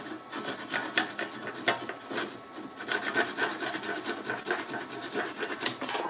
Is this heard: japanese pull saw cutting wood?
yes